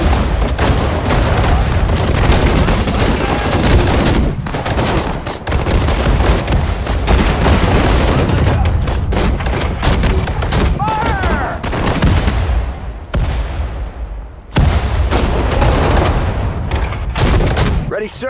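Battle sounds from Sudden Strike 4 at Guadalcanal: dense bursts of gunfire and machine-gun rattle mixed with booming explosions, loud and nearly continuous with brief lulls.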